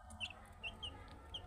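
Brahma chickens on a farm give a few short, faint clucks spaced across a quiet background with a low steady hum.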